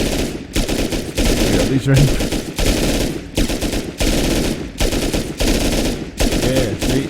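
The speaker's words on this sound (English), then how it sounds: "Oh, I'm getting shot at by scientists." Rapid automatic gunfire from NPC scientists in the video game Rust comes in repeated loud bursts separated by brief pauses, with a voice talking briefly over it.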